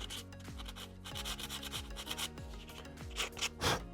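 A boat hull is sanded by hand with 1000 grit sandpaper, giving steady back-and-forth rubbing strokes about twice a second, close and moderately loud with no voices.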